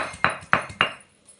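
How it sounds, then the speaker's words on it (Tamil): Ginger being ground on a Tamil ammi grinding stone, heard as three sharp, evenly spaced knocks of the stone roller against the slab, close and fairly loud, with a faint scrape trailing off after them. "இஞ்சியை அரைக்கிறேன்."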